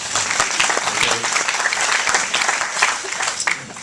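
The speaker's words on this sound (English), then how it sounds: "Why don't you give my wife a round of applause?" A conference keynote audience gives a round of applause, broad and continuous clapping from a large crowd that stays even and full throughout the short stretch.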